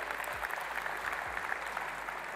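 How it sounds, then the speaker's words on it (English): A keynote audience at a Microsoft Ignite tech conference breaks into a short burst of dense, even applause in a large hall, with low thumps underneath. "You can clap for that."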